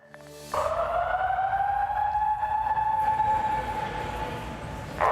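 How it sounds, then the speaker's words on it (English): A steady wailing emergency alarm tone sounds loud and sustained inside the Kentucky Expo Center over a rumbling background, continuing for several seconds in a reverberant space. "that is the sound of the emergency alarms going off inside of the Kentucky Expo Center"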